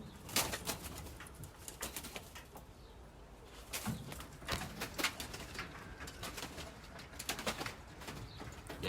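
Pigeons in a small aviary beat their wings in repeated bursts of flapping close by, mixed with soft rustling and faint cooing.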